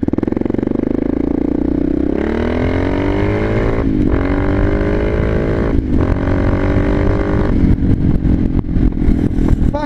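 A Honda XR650 motorcycle engine accelerates hard while riding, rising in pitch through several gears with brief dips at each shift, loud and close with wind noise.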